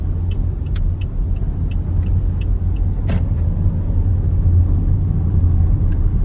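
A car engine cruises under light throttle with a steady, close low rumble and road noise, with a few faint ticks and a brief sharp click partway through.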